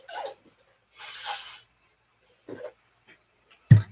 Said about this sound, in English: I will spray his cup for him, though.